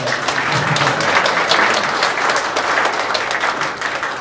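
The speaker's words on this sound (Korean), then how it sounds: "여러분 혹시나 그만하면 됐다 싶으면 박수 한번 해주면 좋겠다" A seated audience at a church fellowship gathering gives a steady round of applause, many hands clapping together in a dense, even roar for a few seconds with no speech over it.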